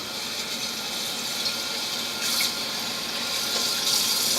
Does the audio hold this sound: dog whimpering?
no